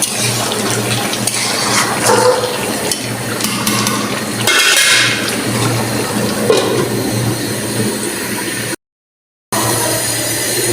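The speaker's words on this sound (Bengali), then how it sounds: "এটা আমার মাংসটা কষানো হইতেছে।" Poultry meat sizzles in a pot as a spoon stirs and scrapes, steady frying hiss with occasional clinks of utensils against the pan, close and continuous.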